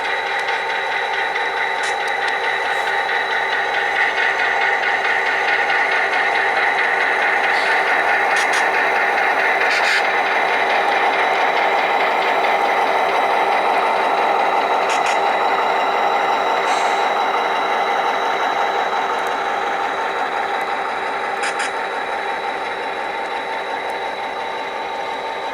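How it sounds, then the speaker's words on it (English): A model train locomotive pulls a string of cars forward along a layout track, giving a steady continuous mechanical hum with faint clicking and rattling throughout, alone and without voices. "Now we'll pull the rest of the train forward"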